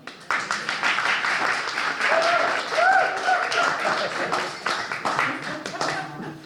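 A live studio audience at the Inside Edge show breaks into warm, sustained applause to welcome a guest, a dense steady wash of many hands clapping for several seconds with a faint voice beneath.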